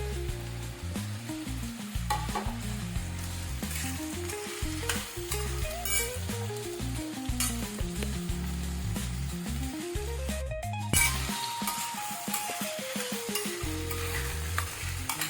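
Mixed vegetables including val beans, chickpeas, bor slices and peas sizzle steadily in a pan while a spoon stirs and scrapes repeatedly. The frying is close and continuous, with melodic background music playing throughout.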